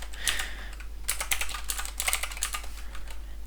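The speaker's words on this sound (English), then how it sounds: "you just type the DNS" Typing on a computer keyboard while configuring DNS settings on a Windows client, quiet irregular clusters of key clicks close to the microphone over a low steady hum.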